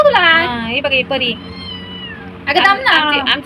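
Two bursts of loud, close cat meowing, drawn-out wavering cries separated by a short lull, with a faint high whine between them.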